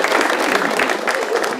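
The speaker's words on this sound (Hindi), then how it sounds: "ताली बजाइए भाई इनके लिए" Sustained audience applause at a stand-up comedy show, dense steady clapping from a crowd that fills the whole stretch without a break.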